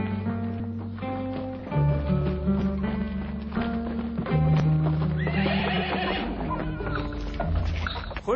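A horse arrives with steady clip-clopping hooves and a loud whinny, set against layered music in a busy historical scene.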